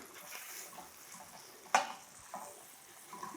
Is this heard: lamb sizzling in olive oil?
yes